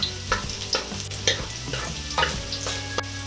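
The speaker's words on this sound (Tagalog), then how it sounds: "Tapos igigisa po natin itong ating bawang" Garlic sautéing in hot oil in a pan gives a soft, continuous sizzle, broken by about eight sharp spatula scrapes and clinks against the pan at an irregular rhythm, heard up close.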